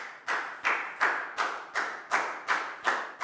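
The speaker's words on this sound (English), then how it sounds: "High five and a big round of applause for Lockdown," A classroom claps in unison for a student, about nine sharp, evenly spaced claps in a steady rhythm, close and clear.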